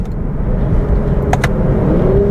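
A 2022 Lexus IS350 F Sport with an 8-speed automatic rumbles steadily while driving, heard from inside the cabin as a loud low engine and road drone, with a rising tone as it upshifts and a couple of faint clicks.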